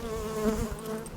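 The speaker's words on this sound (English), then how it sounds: "there you go, bees" Honey bees buzz at a hive in late winter, a steady close hum with a brief louder swell partway through, heard alone without any talk.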